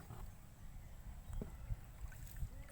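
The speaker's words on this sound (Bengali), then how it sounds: "বহুদিন পরে ডোঙা চালাচ্ছি" Paddling a small dinghy-style boat (dongha) on water: soft irregular splashes and dips of the paddle over a low, breezy background, fairly close and quiet, with no talking.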